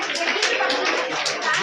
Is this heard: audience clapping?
yes